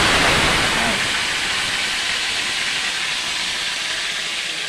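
Oil heating in a pan with onion, ginger and garlic before fish goes in, a steady loud hiss and sizzle that fades slightly, close and continuous with no talk.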